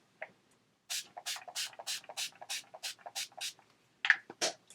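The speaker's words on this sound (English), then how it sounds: "I'm going to go back to my makeup setting spray and set the face" Makeup setting spray misted onto a face in about a dozen quick, even hissing bursts, close and fairly loud, with a short pause before the last two puffs.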